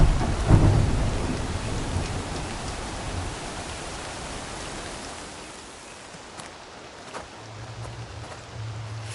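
Rainfall and thunder in an Assassin's Creed II game world, a dense steady patter with a strong thunder rumble near the start that fades, and a low hum toward the end.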